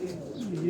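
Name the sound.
pigeon cooing on a rooftop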